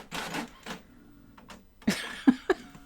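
A printer pulls paper back in with a few short mechanical whirs and clunks, then sharper clicks near the end, close and fairly quiet against a silent room.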